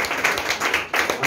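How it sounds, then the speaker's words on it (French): A church congregation claps together at an afternoon service, a dense, steady patter of hands filling the room at close range with a brief dip near the end before it swells again. "Nous sommes capables d'applaudir Jésus cet après-midi."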